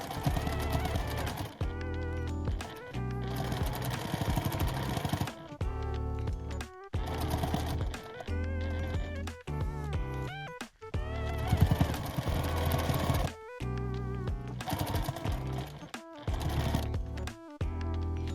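A sewing machine runs in rapid rhythmic bursts, stitching steadily with brief pauses between runs.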